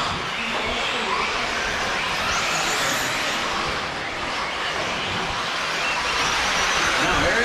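Team Associated RC8B4e electric RC buggies race around the Thornhill RC Speedway track, a continuous broad whine of motors and tires under a commentator's voice calling the action.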